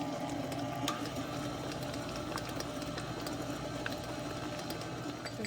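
Stand mixer with a paddle attachment beating cheesecake batter, a steady close motor whir with a rapid mechanical rhythm running throughout, no talking.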